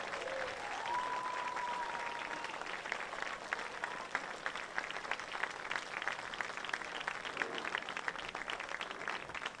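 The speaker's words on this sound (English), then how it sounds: "another round of applause for all of our honorees from our military and first responders" Stadium crowd at a high school varsity football game's military night applauds military and first responder honorees, a broad sustained wash of clapping and cheering heard from a distance, with a brief whistle early on.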